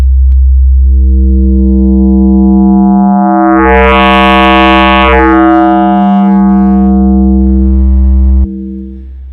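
A sustained FM synth tone built on a saw wave: a loud, buzzy, harmonically rich note held steady for about eight seconds, with its brightness shifting mid-way before it cuts off abruptly near the end.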